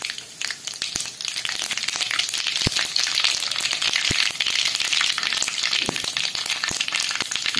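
Mustard seeds sizzle and spatter in hot oil for kanda poha, a steady loud close frying hiss with sharp pops scattered throughout.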